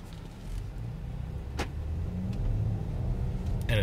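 A Land Rover Discovery HSE Td6 shifted into drive moves off smoothly, a steady low engine and road rumble building gently and heard from inside the cabin, with a couple of faint clicks.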